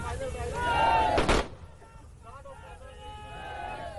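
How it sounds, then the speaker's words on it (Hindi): Army soldiers fire a ceremonial rifle volley as a guard of honour at a funeral; one sharp, loud crack bursts out partway through, while people talk before and after it. "ये फायरिंग हुई, ये सम्मान में फायरिंग की गई"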